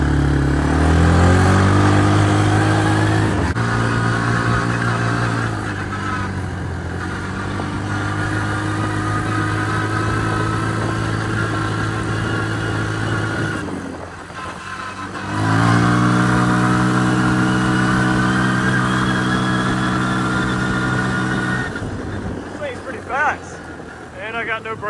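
A Kymco MXU 150 ATV with a vacuum leak runs loudly and close by for the whole span, its engine note rising and falling as it revs, with brief dips in between. Someone talks over the engine.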